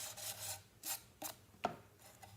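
Quiet, repeated rasping strokes of a sanding block trimming clay, rubbing back and forth over the soft surface, close by, with no talking.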